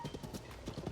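A giant horse in Zelda: Tears of the Kingdom makes steady clip-clop hoofbeats, a quick, even rhythm of soft, close thuds at moderate volume with no talk over it.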